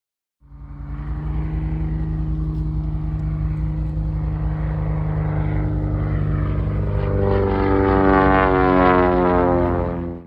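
An amphibious propeller plane drones steadily and loudly as it comes in to land on water. The engine tone rises and swells toward the end, then stops abruptly.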